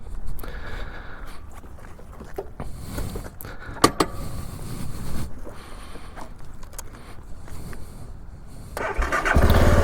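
A 2012 BMW G650GS Sertao single-cylinder motorcycle cranks and starts up close, with clicks and starter whir building into a louder, steady engine idle near the end, with no talking.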